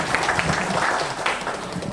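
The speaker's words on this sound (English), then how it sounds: "give yourself a clap." A short burst of clapping from a small group at a product presentation, moderately loud and continuous, with some lower voice-like murmur underneath.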